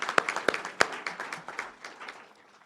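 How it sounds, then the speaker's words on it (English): Scattered clapping from a small crowd at a community recognition awards event for a lawn display winner, a few sharp distinct claps at first, then thinning to a light patter that fades out. "let's give them a applause."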